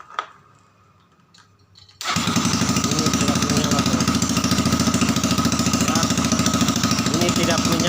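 A motorcycle engine cranks with the hand starter and catches at about two seconds, then runs steadily and loudly at a fast idle close by for the rest of the clip, after some quiet switching noises.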